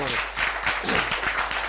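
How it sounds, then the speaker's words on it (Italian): A crowd of young athletes at an Italian sports club event applauds their parents, a loud, dense burst of clapping close by with some voices underneath. "Fate un applauso ai vostri genitori."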